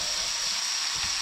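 A tomahawk steak sizzling loudly in a pan as it is flipped during cooking in a remote cabin, a constant close hiss with no talk.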